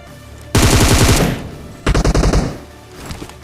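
In a shooter video game, two loud, close bursts of rapid automatic gunfire ring out, a long first volley and a shorter second one, followed by fainter scattered shots.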